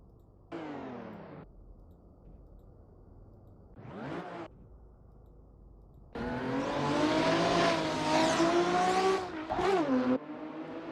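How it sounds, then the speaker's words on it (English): A retro race car's engine in Assetto Corsa at Battenbergring, heard on a replay with an H-shifter setup: short revving bursts separated by quiet gaps, then a loud, sustained run of climbing and falling engine tone with quick shifts. "I wonder how it sounds in the replay, this car."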